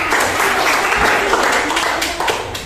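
A classroom of secondary school students claps together in a steady, full burst of applause that carries on throughout and eases off slightly near the end.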